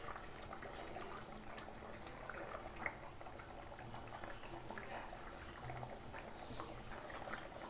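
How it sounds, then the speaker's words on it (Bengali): Rohu fish curry with young stems and potato simmers in a pot, a steady soft bubbling hiss that holds at an even low level throughout with no clear voices. "তরকারিটা আর একটুখানি ফুটবে, ফুটলে নামিয়ে দেবো।"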